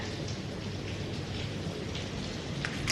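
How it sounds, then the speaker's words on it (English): Steady rain falling just after a hailstorm, a dense continuous hiss and patter of drops with a low rumble underneath, filling the whole stretch evenly at moderate level with no voices. "Actually, it has switched to just rain, but I will pop in the videos and pictures from my phone here."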